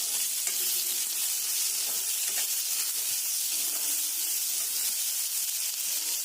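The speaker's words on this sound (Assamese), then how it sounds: "আমাৰ তেলো গৰম হৈ গ'ল, এইফালে পিঁয়াজ দি দিয়া হৈছে আৰু লগতে বিলাহী।" Onion and tomato fry in hot oil for a pork and sesame dish, making a constant, even hiss and sizzle with a few faint stirring taps beneath it.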